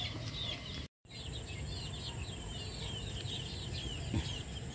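A group of young chicks peeping and cheeping continuously in a brooder, a dense chorus of high chirps at moderate volume with a brief gap near the start.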